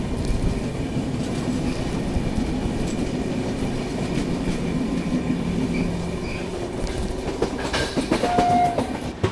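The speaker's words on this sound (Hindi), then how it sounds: "पनवल वायडक्ट को क्रॉस करने के बाद अब पहुंचने वाले हैं रत्नागिरी रेलवे स्टेशन" A train crossing the Panval viaduct on the approach to Ratnagiri station in India, with steady rumbling wheels and clattering carriages throughout and a brief squeal or horn note near the end.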